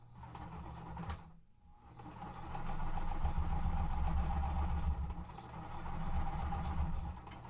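A sewing machine runs in steady bursts while stitching quilt pieces, its even mechanical whir and hum continuing close by with a brief pause early on.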